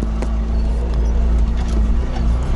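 A Trabant 601 drives along, its two-stroke engine a constant loud low drone heard from inside the car, with faint interior rattles and clicks throughout.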